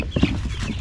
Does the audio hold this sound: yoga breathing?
no